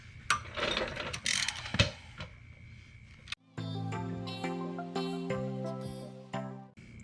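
A ratchet works on the 14mm rear brake caliper bolts of a Mazda Miata, with quick clicking bursts up close followed by a stretch of denser mechanical ticking and clatter.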